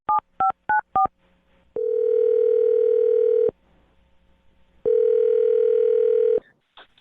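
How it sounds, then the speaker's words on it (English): Four quick touch-tone dialing beeps, then two long electronic ringback tones separated by a pause, clean and close as heard through a phone line, with a faint click at the end. "I'm going to dial his phone number right now"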